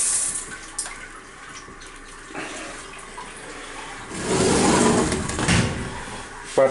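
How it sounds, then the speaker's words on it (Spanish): A shower runs in a bathroom with a steady watery hiss that swells louder midway, with faint knocks and rustles over it. "Ahí funciona la ducha en buen estado."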